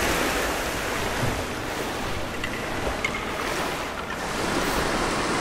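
Rushing water current in the Rise of the Tomb Raider video game, a steady, loud broadband wash of flowing water that swells slightly and carries on without a break, with no voices over it.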